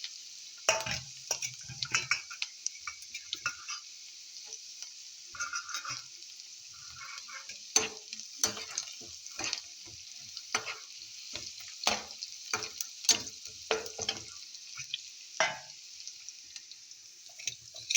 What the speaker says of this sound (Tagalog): Now, let's start saute now. Onions, now we can put now garlics.